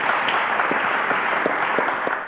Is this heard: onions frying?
no